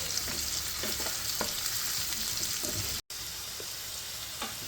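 Baby potatoes frying in oil in a pan for dum aloo, a steady soft sizzle with occasional crackles and stirring scrapes, close and continuous.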